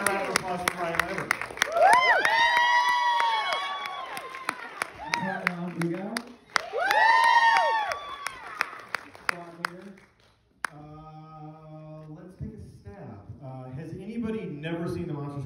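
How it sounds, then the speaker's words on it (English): A crowd at a Monster Squad introduction event claps and whoops for actor Ryan Lambert, with loud cheering swells and steady clapping, then a quieter stretch as someone talks. "And a round of applause for Ryan Lambert."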